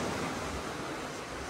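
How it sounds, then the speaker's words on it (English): Ocean surf rolls onto a Bermuda beach in a steady, full wash of breaking waves, with wind buffeting the microphone throughout and no voices. "This is a phenomenal beach."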